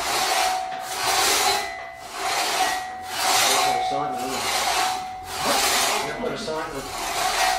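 Rhythmic rasping strokes of a hand saw cutting through wood, about six back-and-forth pulls, close and fairly loud with faint voices underneath.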